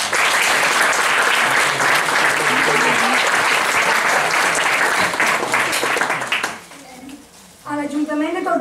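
An audience at a presentation event claps loudly and steadily for the violinists, the applause fading after about six seconds as voices and speech take over.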